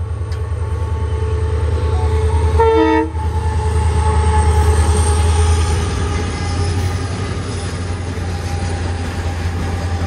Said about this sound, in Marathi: अशा प्रकारे रेल्वे गेली